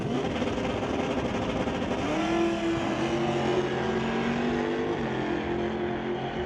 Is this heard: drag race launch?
yes